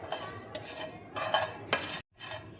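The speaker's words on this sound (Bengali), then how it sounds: "এই মশলাগুলো দেখো আমি সব ড্রাই রোস্ট করে নেব" Whole spices being dry roasted in a pan for dahi kachuri, stirred with a utensil: close scraping and rustling in short bursts, with a brief silent gap near the end and no talk.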